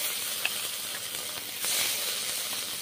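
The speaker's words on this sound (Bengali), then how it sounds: "আলাদা করে মশলা কষে নিচ্ছি" Ground spice paste fries in a pan, a steady close sizzle and hiss with faint stirring, loud and unbroken, with no voices.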